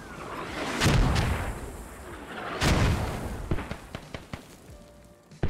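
Mortar rounds and explosions in the military shooter Squad: two heavy booming blasts with long rumbling tails, then a string of sharper, closer cracks and thuds near the end, loud and with no voices.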